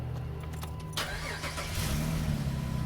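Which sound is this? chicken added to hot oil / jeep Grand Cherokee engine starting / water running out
jeep Grand Cherokee engine starting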